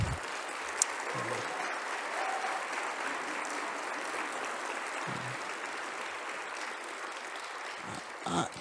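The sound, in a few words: audience applause for the guest speakers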